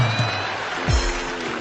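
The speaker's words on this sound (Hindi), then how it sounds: "ये सिर्फ वे लोग तालियां बजा रहे हैं जिनके घर में लगी हुई है" A comedy show audience claps in a continuous wash of applause, moderately loud, with a couple of low voiced sounds rising briefly beneath it.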